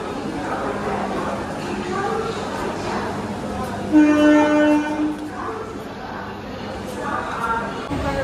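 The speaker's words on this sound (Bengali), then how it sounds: "ছেড়ে দিল বর্ধমান জংশন" A passenger train pulls out of Bardhaman Junction with a steady, rolling rumble. A loud horn blast comes partway through, and background voices run throughout.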